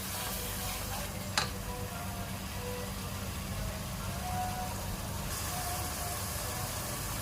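Ground ginger and garlic paste frying in a pan, a low steady sizzle with a brief clink of a utensil, quiet and close, continuing without talk.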